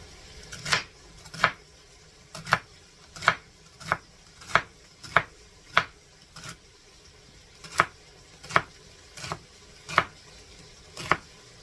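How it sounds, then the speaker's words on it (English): Chopping two ribs of celery for jambalaya: a steady run of about fourteen crisp knife strikes against a cutting board, evenly spaced and fairly close, with no talking. "now it says 2 ribs of celery chopped"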